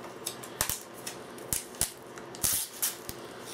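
Sharp clicks and scrapes from an anti-theft sticker being picked and peeled off the top of a plastic Blu-ray case, close and irregular, with brief crackling bursts and no talk.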